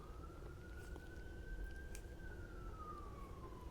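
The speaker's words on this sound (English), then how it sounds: "I think that's an ambulance." An ambulance siren wails in the distance, one long rising and falling tone carried over steady low background rumble in a quiet neighborhood.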